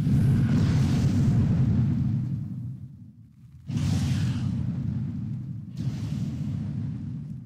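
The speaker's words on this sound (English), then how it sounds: "Spirit Fire Bolt." Spell effects from World of Warcraft pet battles, a Spirit Fire Bolt cast repeatedly: dense fiery whooshing bursts that swell, drop away briefly, then return twice more, loud and continuous with no voices.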